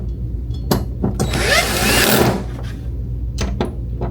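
Screws are driven into the back of a TV to fit a wall bracket: short mechanical clicks and ratcheting, then a sustained whirring burst from a powered driver, with more clicks afterwards, close by and without talk.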